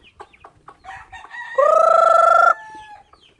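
Chickens on a backyard farm, with hens clucking softly and sporadically before one rooster lets out a loud, close, drawn-out crow that trails off into more faint clucks.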